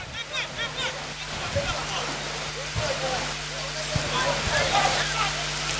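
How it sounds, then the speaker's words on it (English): Rain falls steadily over a semi-professional football league match in Saint Lucia, a broad hiss of drops on the ground and surfaces, with crowd and commentary voices running underneath throughout. "And the rains are coming down there"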